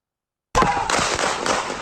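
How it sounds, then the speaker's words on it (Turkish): Gunshots fired by police in the United States, captured on a police bodycam, ring out as a cluster of sharp, loud cracks right after near silence, closely spaced and echoing. "Daha sonra silah sesleri duyuluyor ve Brooks polisin ateş etmesi sonucu yere yı"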